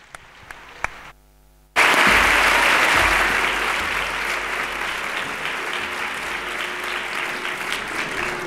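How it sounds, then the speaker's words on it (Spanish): Audience at a sports awards gala in San Sebastián de los Reyes breaks into applause; a few isolated claps lead into a sudden, loud, sustained burst of crowd clapping that holds steady to the end. "Un aplauso para ellos."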